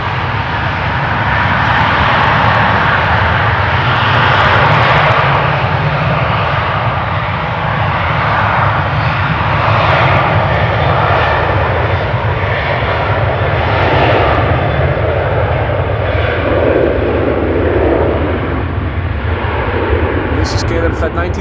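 A KLM Boeing 737-800, about 23 years old, roars continuously at Amsterdam Schiphol Airport, a loud steady jet engine rumble that holds for the whole stretch, with faint voices in the background.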